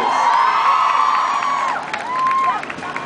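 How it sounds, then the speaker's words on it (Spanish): Audience at a banda music gathering in Neza cheering and whooping loudly with shouts and sustained crowd noise, some high voices rising over the din, with little clear clapping. "el aplauso para ustedes"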